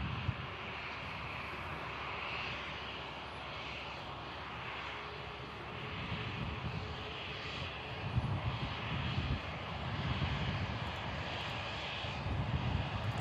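EasyJet airliner touching down at Manchester Airport after a flight from Belfast, a steady moderate jet engine rumble that swells slightly toward the end, heard alone without talk.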